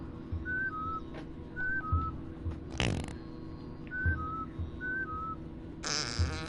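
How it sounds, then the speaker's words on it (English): Mudokon password calls in the video game Oddworld: New 'n' Tasty: paired short whistles repeating in a pattern, with low fart noises between them and a couple of sharp bursts of game effects. "It's 2 whistles and farts for some reason, because apparently gas is how the Mudokons say hello."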